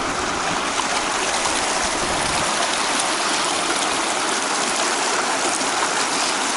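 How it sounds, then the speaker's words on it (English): High, cold river water rushes at a crossing with a loud, constant roar, close and unbroken, and no voices are heard. "Nasty river crossing. The water's really high."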